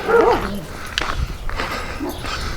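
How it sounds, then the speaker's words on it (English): A dog excited by hikers walking past calls out with a few quick, high yips and whines near the start, then trails off into outdoor ambience with footsteps and faint rustling. "there goes a dog"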